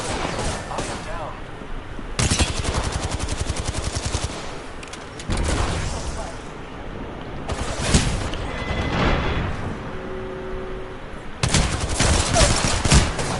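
Bursts of automatic gunfire from an Apex Legends match, rattling in long dense volleys with short gaps between them, loud and close, with brief gameplay tones in between and a voice speaking at times.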